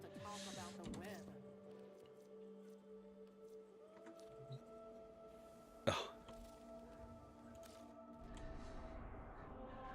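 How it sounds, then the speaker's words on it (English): A person coughs and clears their throat a few times, with one sharp, loud burst in the middle, over a low background hum. "Oh, the coughing."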